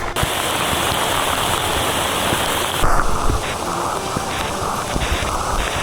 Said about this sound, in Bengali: সামনে ঝুম বৃষ্টি আর ওই যে ওই পাশে কিন্তু রৌদ্র দেখা যাচ্ছে